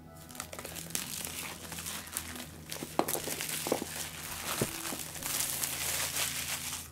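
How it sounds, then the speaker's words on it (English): A knife slices a seam into the side of a cardboard Too Many Bones: Splice & Dice game box, close-up crinkling and scraping with several sharp catches and snaps, faint and continuous, no voices. "I'm going to go ahead and cut a seam into the side of this box"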